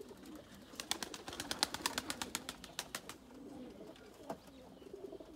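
Several pigeons coo in a loft amid a rapid run of sharp clattering taps and flutters, moderately faint and nearby, with no voices.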